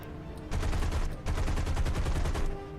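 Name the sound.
aircraft guns firing in a video game flight game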